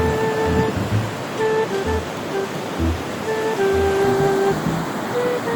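Steady broadband wash of sea waves breaking on the shore at Iba, Zambales, continuous and fairly loud, with faint tonal hum and low rumbles underneath; no talking.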